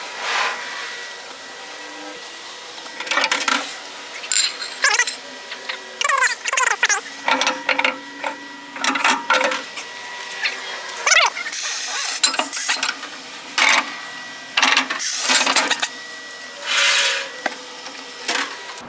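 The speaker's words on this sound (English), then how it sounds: "and then we can put on our torque plates." Heavy steel torque plates going onto a Dart LS Next 2 engine block in a CNC hone: irregular metallic clanks, scrapes and ratcheting bursts, loud and close, in uneven clusters with short pauses and no talk.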